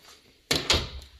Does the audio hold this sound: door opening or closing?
yes